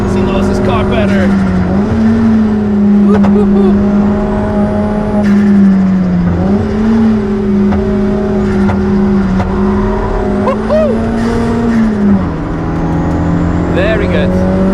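Toyota MR2 with a Zurawski 1.8T engine swap lapping the Nürburgring, heard from inside as a loud, steady engine drone that rises and dips with shifts and corners, with a voice talking over it.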